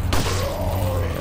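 A single shotgun blast in Resident Evil 4, a sharp burst followed by a rumbling decay and low hum, loud and close with no talk.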